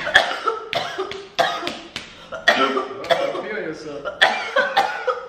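A person coughs repeatedly and harshly after choking, in a series of close, loud bursts mixed with brief speech from those nearby.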